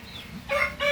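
Heritage chickens such as Indio Gigante, Shamo and Rhode Island Red, giving brief, close clucks that rise into two short, bright calls in quick succession.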